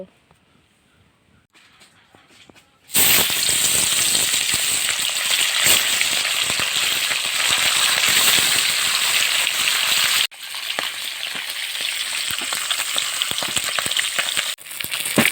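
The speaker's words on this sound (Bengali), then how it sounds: "এবার মাছগুলো একে একে আমি এই কড়ার মধ্যে দিয়ে দেব" Salted, turmeric-rubbed fish frying in oil in a wok over a village fire: after a quiet start, a loud, dense sizzle erupts and holds close up, dips briefly, then carries on strongly.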